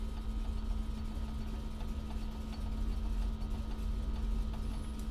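A de Havilland Beaver radial engine in Microsoft Flight Simulator 2020 runs up to about 1,000 RPM, a steady low rumbling drone with a constant hum that carries on without pause.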